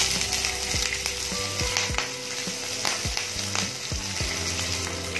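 Chopped green chillies fry in hot oil with black cumin on a low flame, giving a steady loud sizzle with repeated clinks of a spoon as they are stirred.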